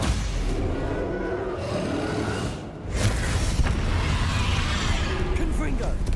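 A Stupefy spell is cast during a combat scene in the game Hogwarts Legacy, heard as a booming whoosh amid dense, continuous battle effects, with a brief dip before another forceful impact.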